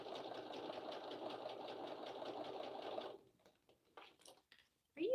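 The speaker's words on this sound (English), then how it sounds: "Are you even sewing?" A sewing machine runs at a steady, fast mechanical whir for about three seconds and then stops, leaving a few faint clicks and rustles before a voice begins at the end.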